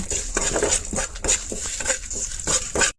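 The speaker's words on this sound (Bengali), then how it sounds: "এখন এটা লাড়াচাড়া করে হালকা বাজিম।" A spatula scrapes and taps rhythmically in a pan while a radish bhujia mixture is stirred and lightly fried, close clattering strokes repeating over faint sizzle.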